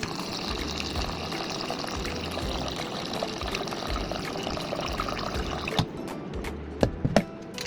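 Water poured into a chicken marinade seasoned with milk, brown sugar and half a Knorr cube for chicken inasal, a steady soft pouring wash heard close, ending with a few light clinks.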